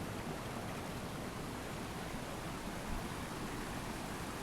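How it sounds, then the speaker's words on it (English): Whipple Brook, a forest tributary of the Woonasquatucket River, pours over a small waterfall in a steady, broad rushing roar that stays constant and close throughout with no other sounds. "So this right here is the Whipple Brook. It's a tributary of the Woonasquatucket River. Look at that nice waterfall."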